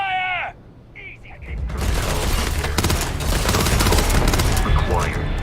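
Sustained barrage of rapid gunfire in a video game space firefight, dense and loud, starting after a brief electronic chirp and building into continuous overlapping shots and blasts.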